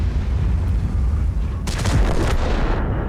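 A tank cannon shot in the World of Tanks video game, a muffled boom with a short crackling burst over a steady low engine rumble.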